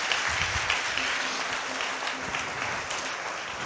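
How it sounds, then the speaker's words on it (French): A church congregation applauds steadily, a dense wash of many hands clapping at moderate volume with no break. "On va applaudir pour ça."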